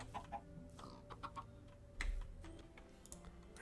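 Minecraft chicken clucking amid game sounds, a few short clucks mixed with soft clicking and tapping at a low, even level.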